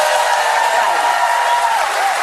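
Crowd applause fills the whole stretch as a loud, continuous roar of clapping with some cheering, steady from start to finish.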